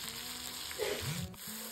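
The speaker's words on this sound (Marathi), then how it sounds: "त्याचा छान असं कलर चेंज होतपर्यंत त्याला तेलातच फ्राय करायचं आहे।" Ground masala paste with cumin frying in oil, a soft continuous sizzle heard close and quiet, with a faint stirring scrape.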